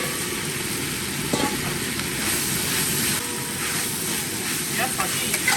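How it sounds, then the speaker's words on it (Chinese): Green peppers, shredded pork and lard cracklings stir-fried with salt in a hot wok, a steady loud sizzle with occasional scraping of the spatula, continuous through the whole moment. "這個時候再把這一碗油渣渣下進去，一起炒，加鹽。"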